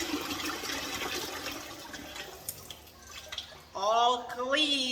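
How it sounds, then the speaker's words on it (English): Okra is rinsed under running kitchen tap water, a close steady rush and splatter that fades, and then someone speaks over it near the end. "Let's rinse it again"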